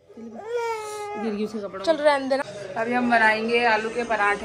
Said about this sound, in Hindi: बच्चा रो रहा था भाई खाने के लिए